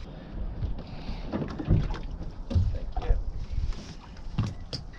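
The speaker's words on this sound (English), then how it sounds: "we'll just paddle for 15 minutes and we'll be there." Paddles dip and splash as a small boat is paddled across the sea near a Menorca anchorage, irregular close water strokes over a breezy outdoor background.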